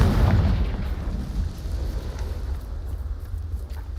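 Confringo spell explosion in the video game Hogwarts Legacy, a loud booming blast at the start that rumbles and decays into a lingering low roar.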